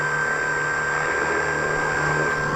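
A model's electric motor keeps running because its electronic speed controller won't switch off with the throttle shut, a steady, close, high-pitched electric whine with a constant pitch throughout.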